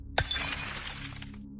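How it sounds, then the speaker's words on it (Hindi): Glass shatters in one sharp, loud crash followed by a scatter of tinkling shards that ring out and fade over about a second, with no voices. "फिर कुछ चीज़ों का टूटना जैसे कांच या कुर्सी।"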